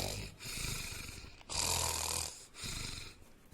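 A voice imitates snoring in a dramatized scene of a girl in deep sleep: a few drawn-out, breathy snores with short pauses between them, close and fairly quiet.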